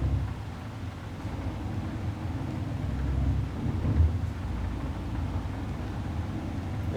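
Rain falls steadily in a truck-driving game, a dense low rumble of downpour with a soft roll of thunder swelling near the middle, continuous and fairly loud with no talking.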